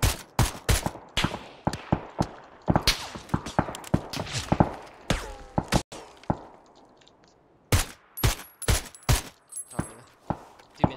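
Gunfire in a video game, a rapid series of loud, sharp shots in irregular bursts with short gaps, some single cracks and some quick strings, with a pause midway before another volley.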